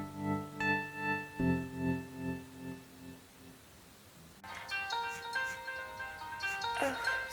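A mobile phone rings with a melodic electronic ringtone in repeating pulsed phrases, followed by a brighter chiming melody, fairly close, with no talking.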